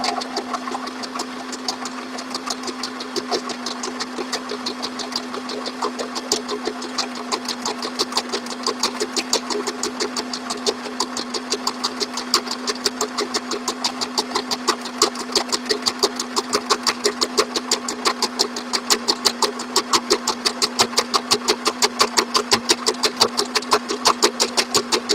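A sewing machine stitching the handle of a tie dye shopping bag, a rapid steady mechanical whirr of needle strokes with a constant motor hum, running nonstop and growing slightly louder toward the end.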